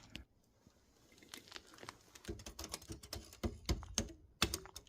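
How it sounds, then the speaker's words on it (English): Keys on an old typewriter in an abandoned, crumbling Gothic asylum are pressed in faint, sharp clicks that start sparse and become a quicker, irregular clatter. "Got an old typewriter."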